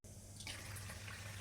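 Flattened rice (poha) being washed in water, with a steady close splashing and running-water rush through the whole short stretch.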